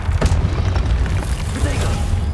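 Confringo and Incendio spell blasts in the video game Hogwarts Legacy, a loud, continuous rumbling roar of booming, fiery bursts with no pause.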